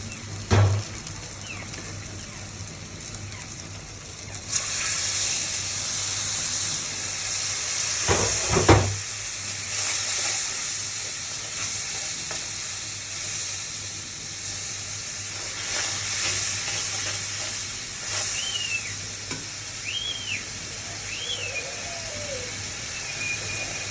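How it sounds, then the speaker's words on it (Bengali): Onions fry in a pan with turmeric, salt and chili powder and a splash of water, making a continuous loud sizzle and hiss, with a few sharp clatters of stirring and faint high whistling tones near the end. "কষানোর জন্য সামান্য একটু পানি দিয়ে নেব বন্ধুরা"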